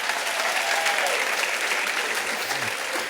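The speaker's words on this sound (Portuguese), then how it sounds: "Pode me aplaudir que eu fiz isso." Church congregation applauding during a worship service, a dense, even burst of many hands clapping together, loud and steady throughout, with a faint voice briefly rising underneath near the end.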